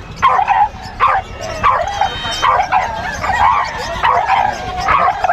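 Small dogs at a Filipino kennel selling bulldogs, French bulldogs and guard dogs give repeated sharp yips and bow-wow barks in rhythmic bursts, close and loud, with whimpers between them.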